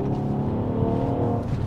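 A 2019 Mercedes-AMG GLE 43 SUV with 385 horsepower accelerates in city traffic to pass another car, its engine note a steady, loud, rising drone heard from inside the cabin.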